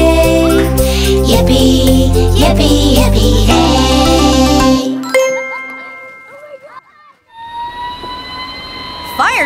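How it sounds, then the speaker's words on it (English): A fire truck bell in a children's song rings out in bright, repeated metallic dings over a loud musical backing, then drops away to quieter scattered tones and a final sustained ringing tone. "The fire bell rings."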